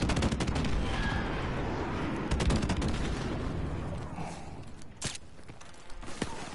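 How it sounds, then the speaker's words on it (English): Gunfire and blasts in the Modern Warfare Remastered online shooter, loud irregular bursts of shots and sharp impacts cracking over a rumbling background, with one strong blast near the end. "Oh, airstrike."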